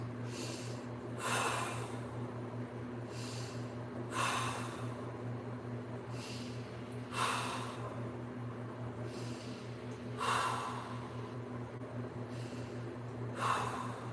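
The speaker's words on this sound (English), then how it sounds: "Give me 5 more big breaths." During a yoga stretch, a person takes deep breaths, about five soft, breathy exhales spaced roughly three seconds apart over a low steady hum. The breaths are quiet and close, with no talking.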